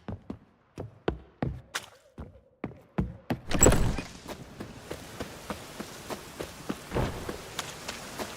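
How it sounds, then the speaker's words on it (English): Magically conjured rain falls in the video game The Witcher 3, starting as separate sharp drop-like taps, then a heavier rushing burst, settling into a quieter steady patter with scattered hits. "Witches have conjured rain again."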